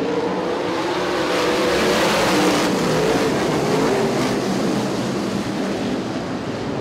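USAC/CRA sprint cars roar around the Perris Auto Speedway dirt oval in a loud, continuous engine drone with broadband rush, steady throughout with a brief swell as the pack passes, no voices.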